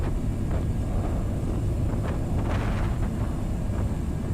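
Heavy wind roars steadily and loudly across the microphone on an airport ramp beside a parked Challenger 650 business jet, a constant broadband rush with no voices.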